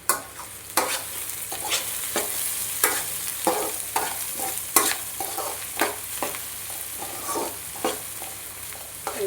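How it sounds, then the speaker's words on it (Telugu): Onions and green chillies frying in hot oil for a crab curry, stirred with a spatula: steady close sizzle broken by repeated scraping strokes against the pan, with no talk. "ఇంకా ఆనియన్స్ పచ్చిమిర్చి వేగాయి. ఒకసారి మనం తిప్పుకుందాం."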